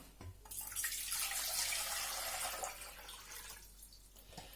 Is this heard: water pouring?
yes